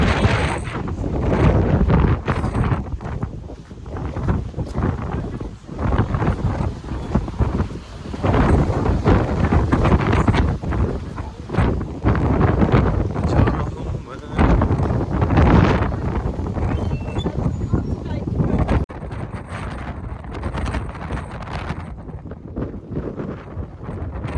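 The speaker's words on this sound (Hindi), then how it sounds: "इतनी तेज हवा चल रही है, ऐसा लग रहा है मेरे हाथ से फोन उड़ेगा।" Strong gusting wind buffets the microphone on an exposed hillside on the Isle of Skye, a loud continuous roar that surges and eases in waves throughout, with no voices.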